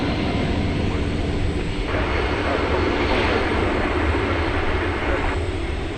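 A Boeing 757 sits on the runway at DFW Airport after dark, ready for takeoff, its engines holding a loud, steady roar that swells slightly partway through, with no clear voices on top.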